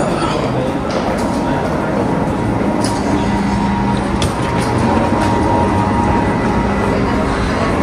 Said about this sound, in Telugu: సో ఇది భయ్యా మౌంటైనిగో ట్రైన్లు ఇవన్నీ